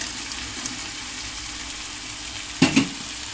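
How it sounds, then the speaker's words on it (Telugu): Cut tomatoes added to a pan of frying stuffed brinjal curry sizzle steadily and softly, with a brief louder splash and clatter near the end. "కట్ చేసి పెట్టుకున్న టమాటాలు వేస్తున్నాను చూడండి."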